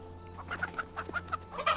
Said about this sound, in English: Oh shit, we got a chicken.